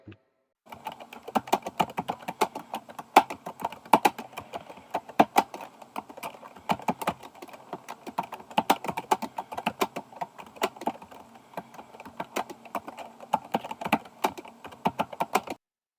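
Fast, irregular clicking of computer keyboard keys as code is typed, close and clear with bursts of keystrokes and short pauses throughout, no voices.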